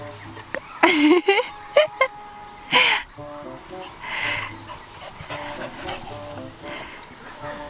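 A Jack Russell terrier puppy gives short, high whimpers and yips in several bursts, with soft panting between them, close by while people talk over it.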